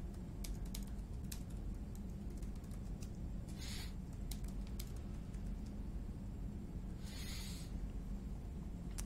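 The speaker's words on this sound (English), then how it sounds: "Keyboard going clicky clicky." A clicky computer keyboard rattles with fast, uneven typing over a constant low hum, with a few louder clusters of keystrokes.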